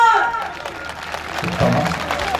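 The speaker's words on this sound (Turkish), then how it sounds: "Alkışlar!" Audience at a municipal opening ceremony clapping, a broad wash of applause with some crowd murmur, fading slightly midway then swelling again.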